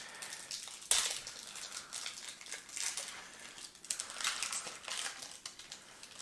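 Wrapped packs of 2019-20 Donruss basketball cards being torn open: close, crinkly wrapper rustling and crackling that runs continuously, with a sharper tearing burst near the start and no talk.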